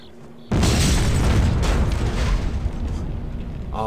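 A detonated explosion in Hitman: Codename 47 bursts in suddenly as a loud, close boom, then rumbles and crackles as it slowly fades over a few seconds.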